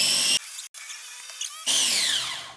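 A kitchen grinder whirs at high speed chopping packed food, running in two loud bursts separated by a short pause and a quieter stretch with a faint whine.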